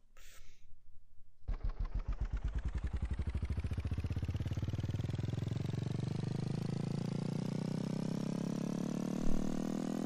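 Simulated motorcycle engine in a Unity3D game starts up after a brief quiet, then revs in a rapid, rising buzz that climbs steadily in pitch and holds loud and close to the end.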